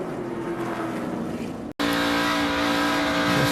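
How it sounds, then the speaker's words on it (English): A race car engine roaring loud and steady as the driver feeds the throttle during a crash-filled race, with a brief cut in the middle, then a sustained high-pitched engine drone. "You can hear he was feeding the throttle there."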